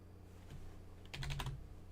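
Fingers type on a computer keyboard during a Joomla 4 and 5 smart search setup: a faint early keystroke, then a quick, close burst of crisp clicks, with no talking.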